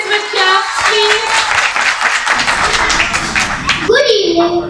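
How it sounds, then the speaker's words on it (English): An audience at a kids' public speaking talent hunt claps steadily for a young speaker, a dense patter of hands mixed with voices and a sharp tone near the end. "Can we boost up her confidence with claps, please?"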